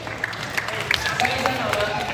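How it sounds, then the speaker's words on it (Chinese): An audience at a magic show claps in a brief burst of scattered applause, mixed with crowd murmur and some talk nearby. "掌声鼓励鼓励"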